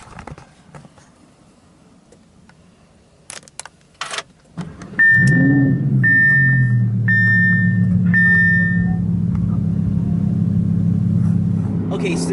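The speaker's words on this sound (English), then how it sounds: "now that exhaust changed this car into a friggin' fire-breathing dragon. It's insane how loud it is" An Audi R8 fitted with an UltimatePD X-pipe exhaust barks to life after a few clicks and thumps, then settles into a loud, deep, steady idle rumble with a repeated high electronic chime sounding over it.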